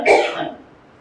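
A single close, loud cough bursts out and fades into a short throaty tail, heard alone without talk.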